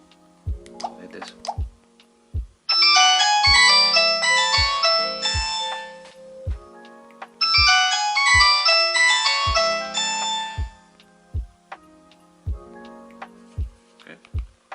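Ringtone of a Nokia 105 mobile phone: two bursts of a bright, bell-like melodic tone, each about three seconds long, over a steady ticking pulse, played loud and close with no talking.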